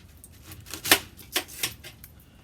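Tin foil being handled before grilling: several sharp crinkling crackles come close and clear, with one louder crunch and a few smaller rustles in between over a quiet background.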